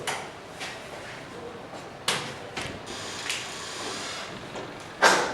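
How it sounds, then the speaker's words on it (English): A door is closed in a lecture room, heard as several separate clunks and thuds spread over a few seconds against a low room hum, with the last knock the loudest. "you can close the door."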